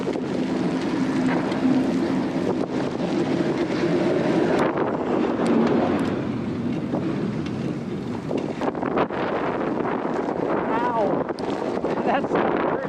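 Blizzard wind roars steadily across the microphone of a fat bike rider, a loud continuous buffeting rush filling the whole stretch, with brief breathy gusts and no pause.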